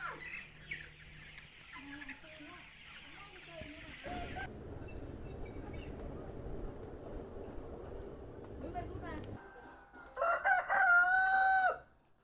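Roosters on a free-range chicken farm: after a stretch of low rumbling and clucking, one rooster gives a loud, close crow near the end.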